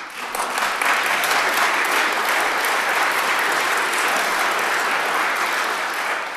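A dense wash of audience applause fills the room at a State of the City address in Saint Paul, steady and loud from start to finish with no talking over it.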